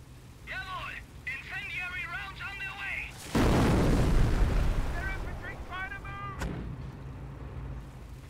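An artillery barrage hits an enemy squad in the Company of Heroes video game: one loud, deep blast rolls into a long rumbling decay, with voice-like chatter before it and a sharp crack afterward.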